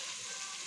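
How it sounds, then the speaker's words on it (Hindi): Masala for a prawn curd pulao fries in a pan, a dense, even hiss of sizzling oil, close and steady for a brief moment. "अभी ये जो मसाला है वो सब डाल देंगे इसमें।"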